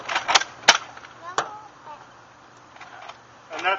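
A toy foam dart blaster slam-fires in quick succession, giving sharp clicky snaps and thumps with a few later softer clacks, under scattered talk nearby.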